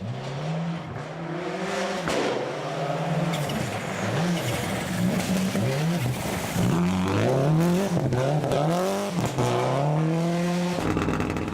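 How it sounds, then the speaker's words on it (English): A Subaru rally car at Rally Canterbury in New Zealand accelerates hard off the start line, engine roaring loudly and rising through repeated gear changes, with strong revs sustained for the whole stretch. "coming off the start line, it already looks like Ben's got more power in that Subaru"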